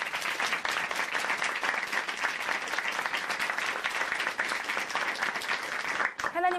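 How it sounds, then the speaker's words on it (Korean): Audience applause from a church congregation at Chuncheon Hanmaum Church after a testimony, steady dense clapping for about six seconds, cut off abruptly by a short burst of music or a voice at the end. "정혜성 자매님께 다시 한번 박수 보내드릴게요"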